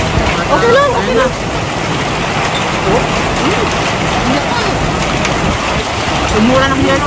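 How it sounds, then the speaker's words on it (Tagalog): Steady dense patter of hail drumming on a surface in downtown Niagara Falls, loud and continuous, with voices talking over it. "Umuulan ng yelo, mga kamipi."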